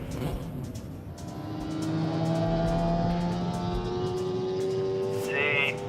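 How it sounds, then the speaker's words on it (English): A Geo Metro land speed race car with a 750cc engine running on open fuel accelerates hard, its engine note climbing steadily in pitch as it revs up, loud and close. "It's a 750cc engine running in open fuel."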